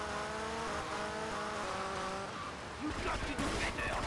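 A motorbike chase in the video game GTA Vice City, with engine roar and revving alongside screeching tires and skids, a louder surge near the end, and game music and a voice mixed in.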